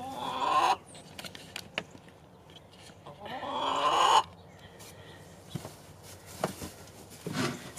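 Chickens cluck inside a homestead chicken house in two loud, drawn-out bursts, followed by softer scattered clucks and light clicking and rustling at close range. No one speaks.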